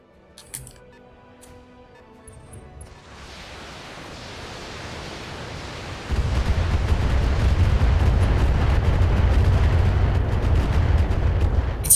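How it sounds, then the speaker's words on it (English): A heavy missile barrage in BattleTech builds from a rising rush into a loud, continuous roar of impacts and explosions that holds steady to the end, with no voices. "There's so many missiles."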